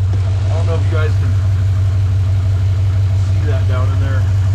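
Modern truck engine idling with open exhaust headers and 1 3/4 inch headers, a loud steady low rumble running throughout with someone talking over it.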